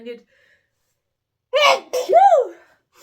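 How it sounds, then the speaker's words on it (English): A faint voice briefly, then silence before a sudden loud sneeze, followed by a sharp breathy vocal sound close to the mic. "I'm going to sneeze."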